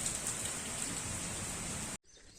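Steady rain pours down, a dense, even hiss that holds loud and unbroken for about two seconds, then cuts off sharply to a much quieter wet patter at the end.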